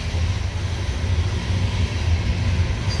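Loaded CSX coal train trudging up Parrs Ridge on the old B&O mainline, a steady low diesel rumble and broad rolling noise held at even loudness from a moderate distance.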